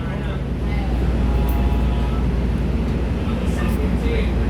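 Steady, loud rumbling ride noise inside a passenger train carriage, a continuous low drone with rattling texture that never lets up, with people talking faintly in the background.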